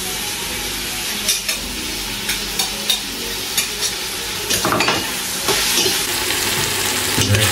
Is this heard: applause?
no